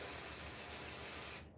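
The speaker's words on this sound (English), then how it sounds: "Then we need a basting spray. I like 505 more than the birch one these days." 505 basting spray hisses steadily from an aerosol can in one continuous close burst of about a second and a half, then cuts off abruptly.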